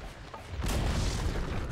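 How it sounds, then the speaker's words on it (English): A tower collapsing in the video game Dota 2, heard as a loud low boom that starts abruptly and then rumbles on steadily with dense crackling debris for over a second. "Dire's middle tower has fallen."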